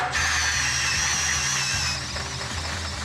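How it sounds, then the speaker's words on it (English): A loud, steady whine of a hole saw cutting a 3-inch hole in aluminum on a 1975 Firebird, close up, with a high grinding squeal that drops off partway through. "first I hole saw out a chunk of aluminum"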